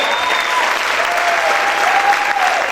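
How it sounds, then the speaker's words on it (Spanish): Sustained applause from a church congregation, a thick, even roar of many clapping hands with a faint held vocal tone drifting above it. "Aplaude, aplaude, aplaude fuerte a tu Rey."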